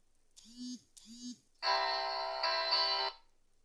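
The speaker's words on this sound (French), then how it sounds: "il y a une sonnerie, j'ai voulu couper et c'est s'arrêté aussitôt" A phone ringtone sounds indoors: two short chirping tones, then a sustained, bright electronic melody with a rich stack of harmonics that cuts off abruptly after about a second and a half.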